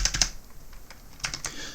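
Several quick keystrokes on a computer keyboard tap out a short line of code in two small bursts, close and fairly quiet, with no talking.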